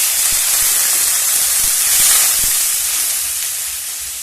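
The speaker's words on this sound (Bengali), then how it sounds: "মশলাটা কষিয়ে নেওয়ার জন্য দিয়ে দেবো একটু জল।" Water hitting ground spices — turmeric, cumin, coriander, Kashmiri chilli powder and bay leaf — frying in a pan for tarka sets off a loud, steady steam hiss that swells briefly midway and then slowly eases, with no voices.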